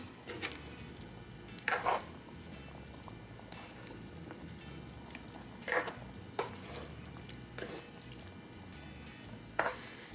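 Faux lamb curry stirred in a pot, with a low bubbling simmer underneath and a few sharper scraping spoon strokes against the pot at intervals.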